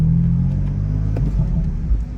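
Deep, close rumble of a BMW M4 CS engine, a steady low drone with a slight pitch shift partway through, running alone without talk.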